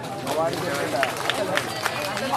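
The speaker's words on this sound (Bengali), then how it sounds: "প্লিজ নিজেদের জন্য একটা জোরে হাততালি হয়ে যাক" An audience claps loudly in a dense, continuous burst of hand claps, with crowd murmur and a voice speaking over it.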